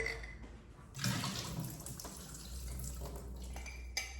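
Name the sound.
pouring water out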